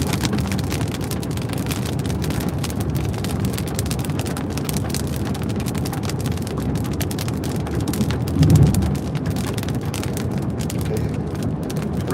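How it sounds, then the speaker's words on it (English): Steady rain pours during a tornado chase in southwest Oklahoma, a constant broadband wash with a brief louder gust or rumble near the end, no voices. "Rain continues."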